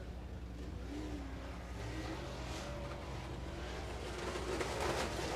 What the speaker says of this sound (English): Cody Clamp in the 44 with some ignition problems. Spitting like that, usually an ignition issue.